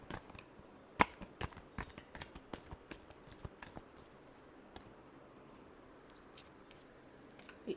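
Tarot cards are shuffled by hand in soft, irregular riffles and taps, faint and close, with a sharper snap near the start and no talk.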